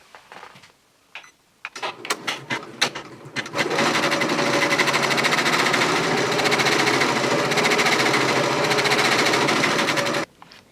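Janome MB-4s embroidery machine sewing a placement stitch on a toddler T-shirt applique, starting after a few clicks and taps, then a loud, close, rapid mechanical needle chatter running steadily for several seconds before stopping abruptly.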